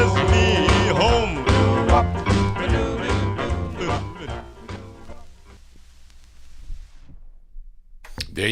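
Vinyl 45 of a 1956 vocal group record plays harmonized singing over a backing band, then ends and fades into near silence before a sharp click at the close.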